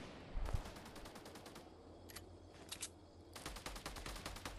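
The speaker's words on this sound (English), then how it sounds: "No, they're shooting somebody else." Gunfire in the battle royale game Fortnite, rapid strings of distant automatic shots in several bursts, fairly faint and steady, with no talk over them.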